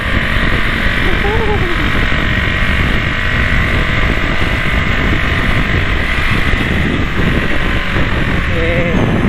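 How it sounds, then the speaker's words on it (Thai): Honda Wave 125 motorcycle with a 4-valve engine, its exhaust droning steadily while riding, mixed with strong wind rush on the microphone and a voice talking over it. "เสียงท่อเหมือนจะแพ้นะแต่ว่าไม่ไม่แพ้นะครับเพื่อน ๆ"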